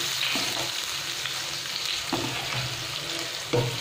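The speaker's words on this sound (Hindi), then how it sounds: "अच्छे से हमारा मिर्ची पक गया है, और इसको हम भून लेंगे" Green chilies and onion fry in oil in a pan, a continuous close sizzle broken by occasional soft stirring scrapes.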